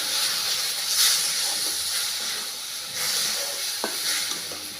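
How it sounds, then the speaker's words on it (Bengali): Milk goes little by little into hot roasted semolina in a pan, giving a steady steamy hiss and sizzle with faint stirring scrapes, close and continuous. "এইবার আমি অল্প অল্প করে দুধ দেবো আর সুজিটাকে মাখাবো"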